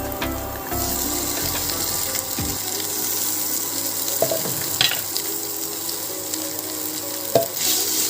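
Potatoes fry with garam masala in a pan as a continuous close sizzle, with water running briefly, some stirring knocks and clinks, and no speech.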